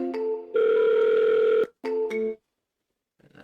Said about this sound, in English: Should automatically start ringing again.